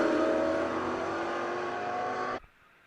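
A Ford Mustang GT350 race car blasts past loudly on the Ozarks International Raceway circuit, its engine a strong high roar for a couple of seconds before it cuts off abruptly into near quiet.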